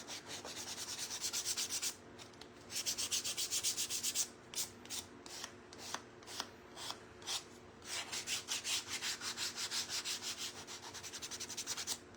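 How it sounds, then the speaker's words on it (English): Painted wood sanded by hand with fine 220 grit sandpaper, a close rhythmic rasping of back-and-forth strokes, steady at first, then broken into short bursts before speeding up again. "This has 220 grit sandpaper on it, which is pretty fine"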